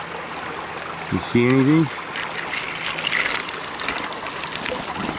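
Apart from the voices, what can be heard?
water flowing through a channel downstream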